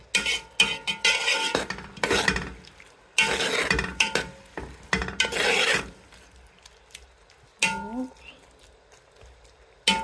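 Prawns cook in a pan with noodles, giving bursts of scraping, rubbing and sizzling as they are stirred and tossed, broken by short pauses, with a voice briefly audible.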